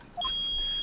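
A sharp electronic beep from the video game Phoenix Wright: Ace Attorney, preceded by two quick tiny blips and then held for about half a second, clear and alone.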